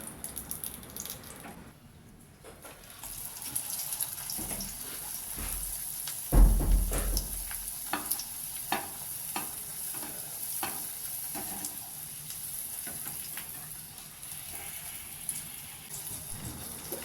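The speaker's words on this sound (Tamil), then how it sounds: "இப்படிங்க ஒன்று ஒன்றா ஃப்ரை பண்ணி எடுத்து" Prawn manchurian somas deep-frying in hot oil, a steady bubbling sizzle with small pops and stirring clinks, one louder splash or clatter partway through, close and without talk.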